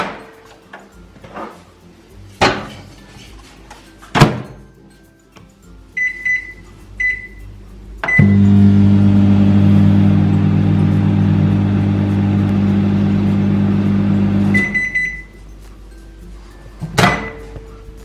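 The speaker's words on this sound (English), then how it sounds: "place it in your microwave for 30 seconds" A microwave oven hums steadily for several seconds after a few beeps and door clicks, then beeps again as it stops.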